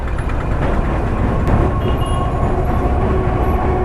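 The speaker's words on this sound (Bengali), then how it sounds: "ট্রেন যাচ্ছে আর আমি এই সাইড দিয়ে যাচ্ছি" A train rolls past close by near Dakshineswar on the edge of Kolkata, a loud, steady rumbling roar of wheels and carriages that fills the whole stretch without a break.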